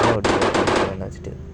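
In the Indian Bike Driving 3D mobile game, a machine gun fires in a fast, loud burst of rapid rattling shots that ends after about a second, with a player's voice audible alongside.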